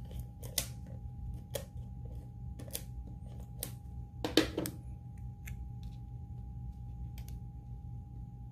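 Scissors snip pieces of paper for a cookie-themed shaker pizza box, several sharp, separate cuts spaced irregularly against a quiet room hum.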